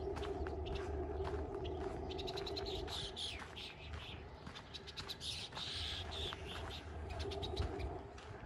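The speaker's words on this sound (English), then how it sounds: "Lots of birds, if I quit talking." Birds call along a dike on a spring walk in Regina: pigeon-like coos and repeated chirps overlap in a busy chorus, moderately near, with no talking.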